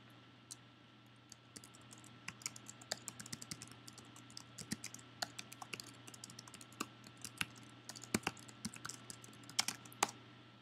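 A computer keyboard clatters steadily nearby as code for a unit test is typed, with irregular bursts of key clicks and short pauses over a low background hum.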